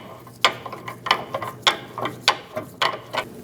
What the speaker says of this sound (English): We're going to install our torsion bar unloading tool.